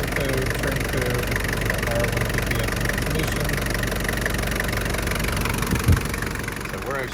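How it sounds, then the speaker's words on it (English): A 1994 Toyota Land Cruiser KZJ73 with a 3.0L 1KZ turbo diesel idles steadily inside an enclosed building, a close, even clattering rumble with a faint thump near the end, while someone talks over it. "we're actually in an enclosed building running a diesel"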